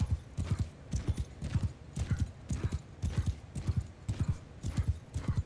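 Horse hooves galloping in the video game Mount & Blade II Bannerlord: a steady, rhythmic clip-clop of hoofbeats in quick repeating groups, fairly close and even, with no talk over them.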